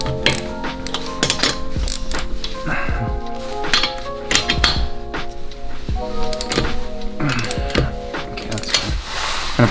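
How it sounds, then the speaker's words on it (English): Wheel lug nuts on a Toyota Corolla are loosened with a ratcheting tool, giving rapid metallic clicks and clunks in irregular bursts, close and fairly loud throughout. "I loosen up the nuts before I jack it up"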